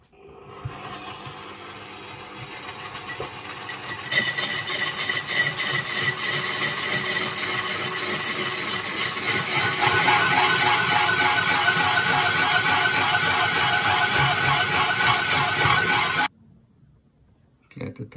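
A machine grinds a stone well slab, giving a steady, loud rasping drone that runs for most of the stretch and then cuts off near the end, with a voice briefly audible.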